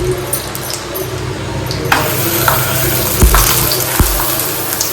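Methi thepla paratha frying in ghee on a hot pan gives a steady close sizzle with a few soft thuds and scrapes, no talking.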